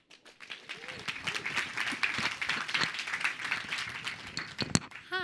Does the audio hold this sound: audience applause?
yes